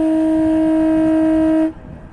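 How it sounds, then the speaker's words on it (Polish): A loud, steady boat horn blast from a 12-metre, 12-ton boat with a Volvo Penta TMD31B engine, rich harmonic tone, holds for about a second and a half, then cuts off, leaving low background rumble. "O, trąbka jest! Taka trąbka."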